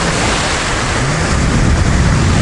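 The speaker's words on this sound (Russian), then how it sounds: "Ух, волна какая" Loud, continuous roar of Black Sea surf with broad rushing noise, like waves breaking close by, no distinct pauses between them.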